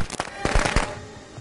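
A quick burst of crackling pops from fireworks thrown in the horror game Friday the 13th, a few sharp snaps in a cluster lasting about a second, close and moderately loud.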